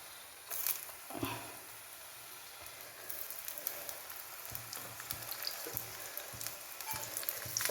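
Chopped onion sizzles and crackles steadily in hot oil in a pan while a thoran of beans and greens is prepared, a close, continuous frying hiss with small pops and occasional stirring knocks.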